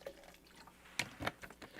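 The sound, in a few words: water being poured into a jar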